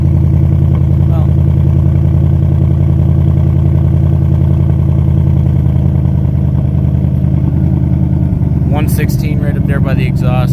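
A Ford Mustang GT with a Whipple supercharger runs loud and steady close to the exhaust, a deep, droning engine note that continues throughout, with someone talking over it near the end.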